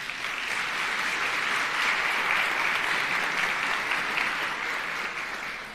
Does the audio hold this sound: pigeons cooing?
no